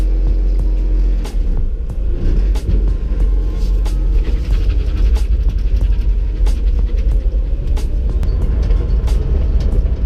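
A steady low rumble of a car driving after a subframe install, heard from inside, with continuous road noise and faint clicks and rattles throughout.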